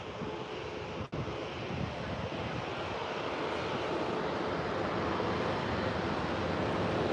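A specially liveried airliner arriving at San Diego Airport, its jet engine roar loud and continuous with broadband rumble and some wind buffeting, steady throughout with no talk.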